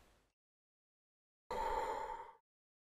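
A cartoon character breathes heavily, with a brief breath trailing off at the start, then after a pause a single long, loud, airy sigh-like exhale lasting about a second.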